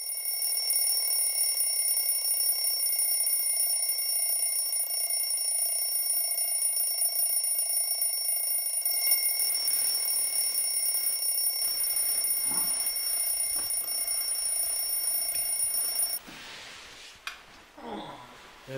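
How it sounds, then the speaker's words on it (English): A bedside alarm clock rings in the morning, a steady electronic tone with bright high overtones that holds for about sixteen seconds. It then stops, leaving quiet room noise and a few soft rustles. "My alarm woke me up as usual"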